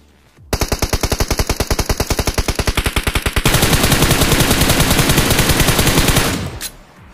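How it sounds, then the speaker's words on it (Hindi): Gunfire in the BGMI (PUBG Mobile) video game: loud, rapid automatic bursts, first a distinct rattling stream of evenly spaced shots, then a denser overlapping barrage before cutting off, no voices. "फायरिंग चालू क्योंकि बंदा दिखा यार"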